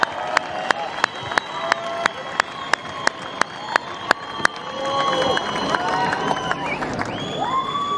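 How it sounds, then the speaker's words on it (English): Crowd applause at a surfing competition prize giving opens with a few sharp, spaced claps, then swells into cheering and whoops from a larger outdoor crowd. "warm round of applause"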